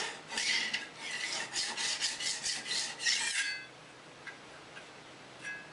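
A file rasps in a quick run of strokes across the edge of a steel card scraper, a close scratchy scraping that stops abruptly, leaving faint background noise with a couple of soft ticks.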